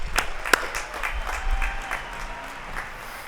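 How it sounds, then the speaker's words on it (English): Audience applause at a university commencement ceremony, a moderate scattered round of clapping in a large hall with a few sharp nearby claps standing out, continuing steadily throughout. "So please join me in a round of applause for the leadership of Central Washington University."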